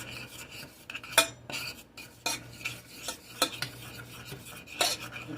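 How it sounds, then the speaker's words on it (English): A utensil scrapes and clinks against a bowl while brown sugar is stirred into chocolate chip cookie dough, with irregular close taps and rasping strokes over a faint steady hum. "So I'm just going to do a couple of tablespoons of the brown sugar, wipe this off my stove. And then we're going to mix this in."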